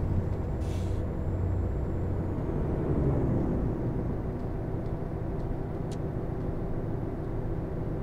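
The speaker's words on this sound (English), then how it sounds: "My apologies for the motorbike that's just decided to drive up my street." A motorbike rides up a residential street outside, its engine a low rumble that swells and fades over several seconds beneath steady background noise, with a brief hiss early on.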